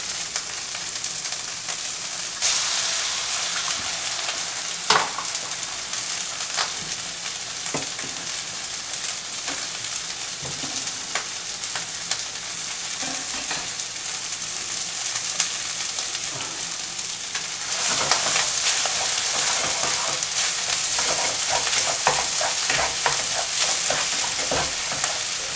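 Pork and green onion sizzle and fry in a pan for pork fried rice, a steady dense hiss with intermittent stirring scrapes and clacks, growing louder and brighter in the final stretch.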